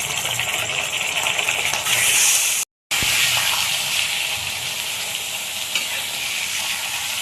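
Chicken and onions fry in a pan with a steady loud sizzle while a utensil stirs and scrapes through them, broken by a brief silent gap partway through.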